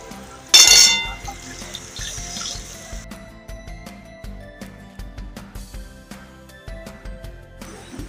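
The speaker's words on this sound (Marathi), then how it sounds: "इथे मी 3 ग्लास हे पाणी ओतून घेणार" Water is poured into a cooking pot in a home kitchen, about three glassfuls for a Malvani-style horse gram flour dish. A loud splash opens, followed by softer irregular trickling and clinking.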